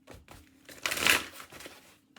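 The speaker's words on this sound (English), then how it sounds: "One more shuffle." A deck of cards is shuffled up close, a quick riffle building to a dense fluttering burst and then settling into a few soft taps, with no voices.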